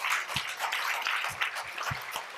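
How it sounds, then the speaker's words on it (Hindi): An audience clapping together at a lecture on natural drug development, a steady dense patter of many hands that keeps on without a break from start to finish. "तो इस बात पर ताली बजा लेते हैं"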